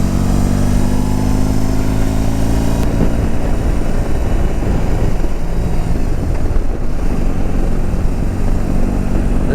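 A BMW R18 B motorcycle cruising in sixth gear at about 60 miles an hour: a steady, loud engine drone with heavy wind rush, continuous and even throughout.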